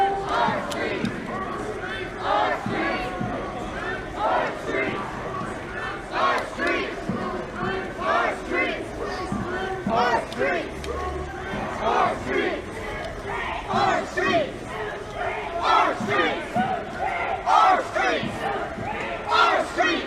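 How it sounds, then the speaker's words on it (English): A large crowd of protesters at the Capitol shouts and chants continuously, a dense roar of many overlapping voices with rhythmic swells, loud and fairly near throughout. "It sounds like crowd on crowd, right?"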